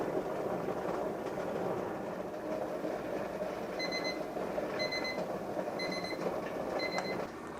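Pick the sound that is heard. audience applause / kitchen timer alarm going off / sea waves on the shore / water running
kitchen timer alarm going off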